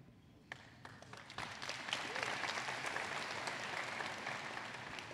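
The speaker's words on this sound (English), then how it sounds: "There's nothing as rewarding as the slow growth applause." Applause from the audience at a convention panel in a large hall, starting with a few scattered claps and slowly swelling into a steady, fairly distant wash of clapping.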